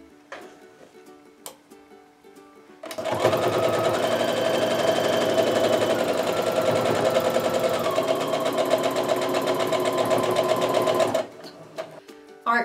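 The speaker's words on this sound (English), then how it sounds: "we're just going to sew our 1/4 inch seam" A sewing machine stitches a quarter-inch seam on a quilt block in one steady, continuous run of close, loud mechanical whirring, with only faint movement noise before and after.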